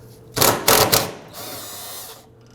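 A 12 mm bolt on the fuel tank strap of a 2005–2009 Subaru Legacy 2.5L H4 is loosened with a tool, giving several quick loud ratcheting bursts followed by a quieter steady whir.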